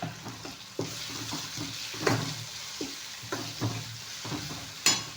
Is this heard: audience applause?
no